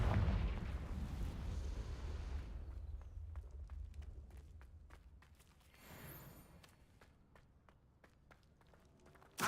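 A fiery blast spell goes off in a Hogwarts Legacy fight against a giant spider, a heavy booming explosion that rumbles and fades, followed by a scatter of sharp crackling impacts and a final thump.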